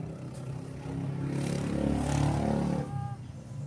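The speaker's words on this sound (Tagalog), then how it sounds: "Ingay-ingay ng mga motor." Motorcycles pass noisily, their engine drone swelling up close and then fading over a few seconds, with a little clatter mixed in.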